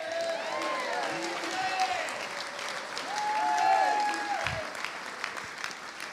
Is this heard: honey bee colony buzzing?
no